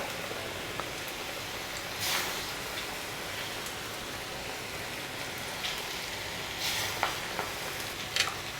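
Kara vadai, spicy South Indian lentil fritters, frying in hot oil, a steady soft sizzle and crackle throughout with a few sharper pops and spatters near the end.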